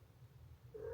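A house cat purrs steadily and close at lunchtime, a low rumbling drone that continues throughout, with a short meow rising at the very end.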